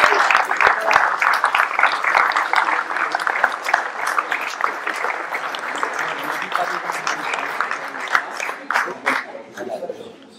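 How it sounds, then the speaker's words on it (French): An audience applauds at a town sports awards ceremony in Ploërmel, with steady, dense clapping that fills the hall for about ten seconds and fades slightly at the end. "on peut applaudir"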